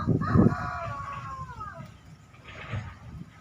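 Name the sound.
chickens and rooster crowing at coop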